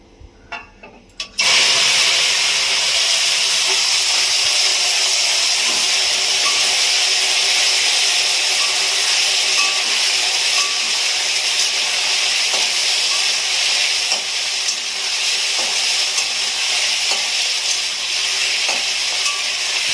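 Ginger paste and slit green chillies frying in a hot pan, a sudden loud sizzle that starts after a moment and hisses steadily and close for the rest, with faint stirring clicks.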